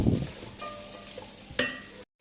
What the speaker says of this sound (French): Je rajoute mes pois chiches et mon eau.